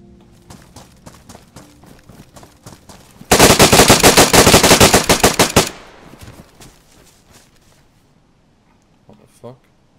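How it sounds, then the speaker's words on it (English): Video game gunfire: scattered single shots, then a loud rapid burst of automatic fire for a couple of seconds, followed by sparse quieter shots. "Did you hear those shots?"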